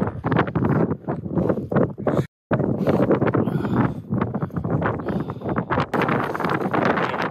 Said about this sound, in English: the wind was pelting my face